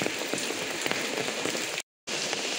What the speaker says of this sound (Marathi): पाऊस काय थांबत नाही.